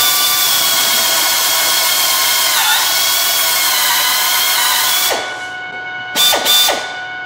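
A power drill turning a large bit grinds steadily and loudly at close range, then slows and stops, followed by two short bursts of the motor.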